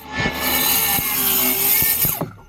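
A power saw cuts through wood to shape an equilateral diamond, giving a close, steady, loud whine for about two seconds before spinning down, with no talking.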